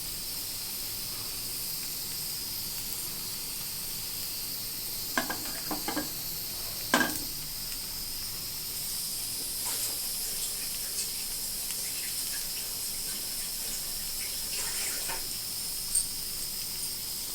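Ridge gourd chops fry in oil in a pan over a low flame, giving a steady soft sizzle with a few faint stirring clicks and taps, with no talking.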